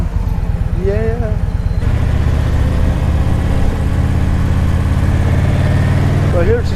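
A steady motorcycle engine, an Indian, idles and rumbles close by throughout, low and continuous, with a few brief voices and whistles near the start and end.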